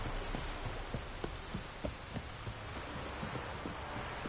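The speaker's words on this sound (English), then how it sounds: "This downpour's a bastard, it is." A heavy rain downpour in the video game The Witcher 3, heard as a dense, steady wash of rain noise with scattered louder droplet taps throughout and no speech.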